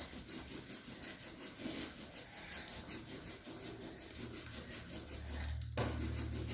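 Rhythmic sticky hissing of an ink roller worked back and forth over an inking plate for lino printing, steady repeated strokes at close range, ending with a low hum.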